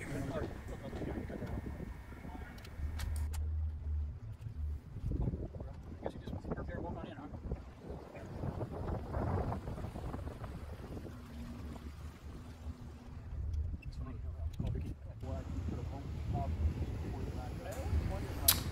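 Motorboat engine drone on the Intracoastal Waterway near Venice, with wind buffeting the microphone and splashing water, people talking intermittently over the hum.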